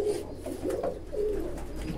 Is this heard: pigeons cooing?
yes